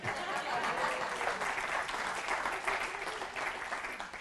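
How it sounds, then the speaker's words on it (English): An audience at LIFT Church in Venice, Florida breaks into sustained, even applause lasting several seconds, a dense wash of clapping heard from within the room. "Clap for her."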